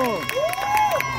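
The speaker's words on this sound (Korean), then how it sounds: "박수!" A crowd at a street busking show in Hongdae, Seoul, applauds and cheers loudly for about a second, with whoops and shouts mixed into the clapping.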